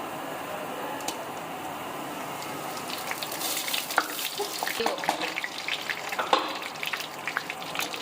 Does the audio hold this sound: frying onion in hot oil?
yes